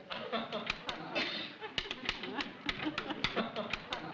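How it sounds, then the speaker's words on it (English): Keys struck on an electric typewriter that is switched off, tapping in an uneven rapid run of sharp clicks over a steady background hum, with a voice talking underneath. "this electric typewriter does not seem to have a light touch"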